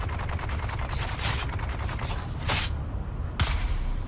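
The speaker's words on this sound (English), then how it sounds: "we're gonna have to shoot him now" Gunfire in Dune Awakening, a steady stream of rapid shots with a few sharper louder bursts standing out, close and continuous.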